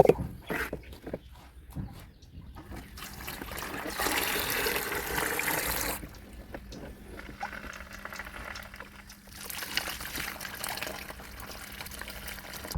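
Water pours steadily into a small bucket set inside a tank for a lotus pond, a continuous splashing trickle that swells and fades over several seconds, with faint dog whimpers in the background.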